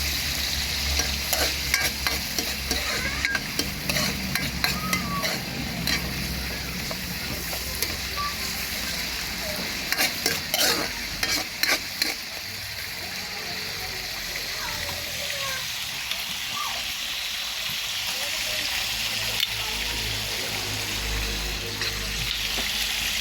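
Sardines and tomatoes being sautéed in a frying pan, with a continuous sizzle and repeated scraping and stirring of a spatula against the pan, close and fairly loud throughout.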